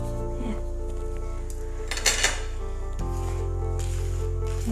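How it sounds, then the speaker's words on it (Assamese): A spoon clinks and scrapes in a pan while a milk powder pera mixture is stirred for homemade peda, faint metallic taps over a steady low kitchen hum, without talk. "দি দিছো এতিয়া তেখিনি গুটেখিনি চালি লব ধুনিয়াকৈ চালি ললে কি হয় গুটেখিনি ধুনিয়াকৈ মিহলি হৈ যায়"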